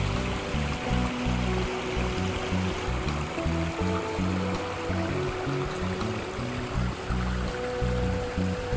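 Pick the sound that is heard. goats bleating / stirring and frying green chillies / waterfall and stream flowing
waterfall and stream flowing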